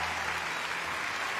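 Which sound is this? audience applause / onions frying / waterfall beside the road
audience applause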